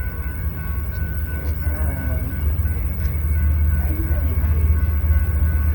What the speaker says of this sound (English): We even captured some train footage from our trip here about 6 months ago.